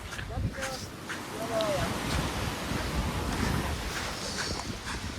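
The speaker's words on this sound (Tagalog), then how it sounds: "Ayun guys, ayan yung dagat natin." Sea waves wash in at Jomalig Island as a continuous surf roar, with wind buffeting the microphone and people talking nearby.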